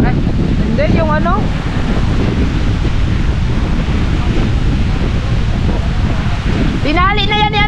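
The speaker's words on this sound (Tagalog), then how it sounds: "Nandito na yung hangin." Strong super typhoon wind roars continuously on the Batangas coast near a tied boat, a loud, unbroken rush buffeting the microphone, with people calling out briefly over it.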